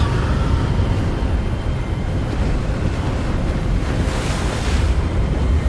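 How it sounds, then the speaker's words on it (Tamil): Strong wind roars without a break in the video game Hogwarts Legacy, a loud, steady gusting rush with no voices over it. "ஆனால் காற்று ரொம்ப பலமாக அடிக்குதுங்க."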